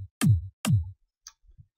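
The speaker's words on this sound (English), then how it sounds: "Kick sounds like this" Two punchy kick drum hits from an FL Studio uplifting trance project, each a sharp click sliding into a deep booming thump, spaced about half a second apart, followed by a tiny tick and a soft low thud.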